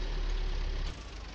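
A tractor engine in Farming Simulator 19 runs as a steady low idling rumble, close and continuous, easing slightly quieter near the end with no voices over it.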